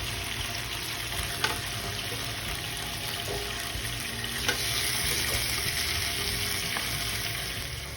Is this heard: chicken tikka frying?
yes